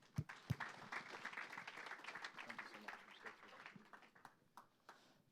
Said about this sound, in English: So another big round of applause for all of them who've been on stage today.